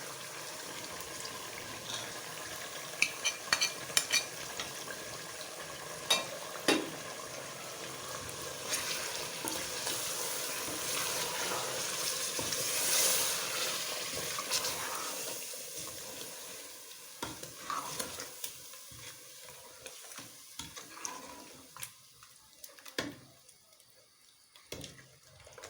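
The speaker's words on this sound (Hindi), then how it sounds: "अब मैं इसमें ये टमाटर डाल रही हूँ और साथ ही ये मैं मसाले डाल रही हूँ।" Tomatoes and spices tipped into chicken frying in a pan set off a steady sizzle with stirring scrapes, loud at first and thinning toward the end into quieter frying with a few clinks.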